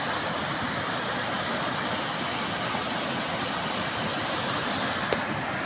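A strong, clear river flows near Mayo Bridge in New Bataan, Davao de Oro, producing a steady, loud rushing wash with no pauses throughout.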